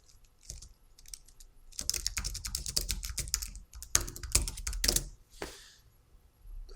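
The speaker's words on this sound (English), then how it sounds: "I can just type my changes directly into the editor" Rapid, close clicking of fingers typing on a computer keyboard, bursts of keystrokes with short pauses, a few heavier clacks, no talking.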